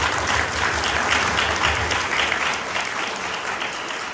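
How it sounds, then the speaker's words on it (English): Loud, steady applause from an audience at a mayoral candidates meeting, a dense wash of many hands clapping continuously and then easing slightly toward the end. "You may applaud."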